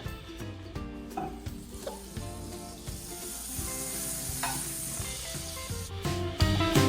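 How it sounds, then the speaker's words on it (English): Butter sizzles and fries steadily in a pan with boiled rice for a herb rice, with intermittent clinks and scrapes of stirring over the continuous hiss, close and moderately loud. "So here I am adding butter."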